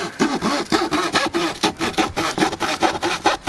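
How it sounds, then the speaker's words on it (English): A small trim saw cuts by hand through soft, cardboard-like wood, making rapid, evenly paced rasping strokes, about four per second, close and loud with no talk. "We're hand sawing it with the small trim saw here."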